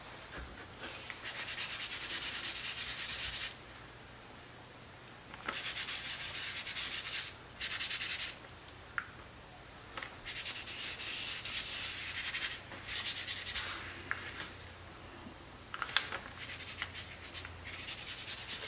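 Cold wax and oil paint are rubbed onto a painting in several scratchy bursts of friction, separated by pauses, with a few small taps and a faint low hum underneath.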